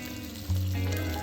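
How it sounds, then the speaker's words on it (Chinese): Bacon sizzles in a pan over medium-low heat until its fat renders and both sides turn golden, with a steady close frying hiss and a brief louder crackle partway through. "一直用中小火煎到培根冒油，两面都变金黄"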